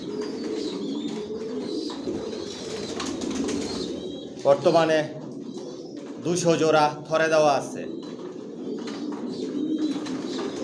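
Racing pigeons in a loft coo softly and steadily throughout, with a couple of louder, closer coo bursts, while someone talks over them.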